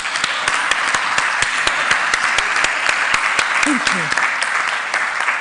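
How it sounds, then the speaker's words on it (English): An audience claps steadily and densely throughout, with a brief spoken thanks heard over the applause. "please join me in clapping for all those that make Wisdom Calls happen"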